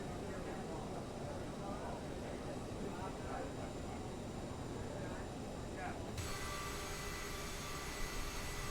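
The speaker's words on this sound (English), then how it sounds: "All right, we are taxiing down to the runway now." Aerosoft CRJ 700ER jet engines taxiing in Microsoft Flight Simulator 2020 give a steady, even whine and rumble that holds level throughout, with a voice talking over it.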